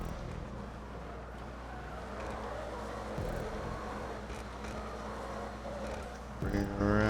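A Dominator FX drift build car in GTA runs in a video game, its engine droning steadily with a rising rev near the end, while someone talks over it.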